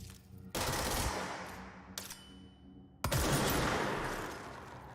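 Loud bursts of automatic gunfire in a first-person shooter game ring out in three sustained volleys separated by brief gaps, close and dense with no voices present.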